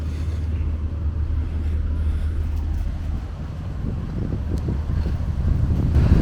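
Steady wind buffeting the microphone beside the Main River in Würzburg, a continuous low rumbling roar that swells slightly toward the end, with no voices.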